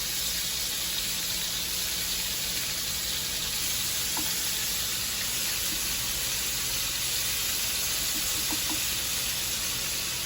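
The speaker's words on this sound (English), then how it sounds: "I'm going to put my shrimp down." Steady sizzling from shrimp frying in a pan, a constant broad hiss with a few faint clinks, no voices.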